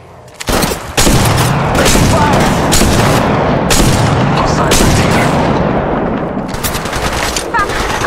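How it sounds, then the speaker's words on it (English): Gunfire in the mobile battle royale game Apex Legends Mobile: loud, sustained automatic weapon bursts in rapid succession with brief pauses between volleys, filling the whole stretch. "Shots fired at me."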